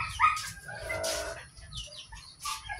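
Young fighting rooster clucks and short crowing calls close by, mixed with farmyard chatter and background noise on Sibuyan Island, Romblon.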